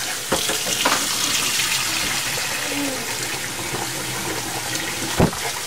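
Rice is rinsed under a running kitchen tap, with a steady close rush of water and a few soft splashes and knocks.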